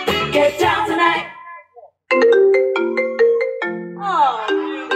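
A phone ringtone goes off during a live music performance at the San Gennaro Feast in the Hamptons, a bright melodic electronic jingle ringing clearly after a singer's voice fades out.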